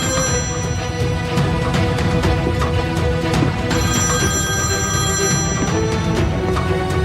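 A telephone rings in a tense drama scene, its bell tones repeating steadily over a dense bed of background music with no talking.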